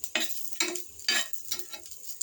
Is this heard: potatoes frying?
yes